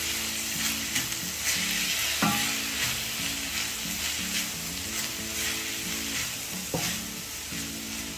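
Roadside-style kara chutney ingredients with mint, coriander, tamarind and tomato frying in a pan, a continuous close sizzle broken by rhythmic spatula scrapes and a couple of sharp knocks, no voices.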